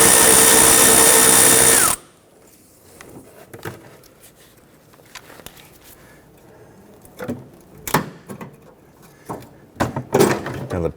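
A power tool on a 1992-1996 Toyota Camry front bumper, loosening a 10mm bolt: one loud sustained whir for about two seconds, followed by scattered clanks and small handling noises.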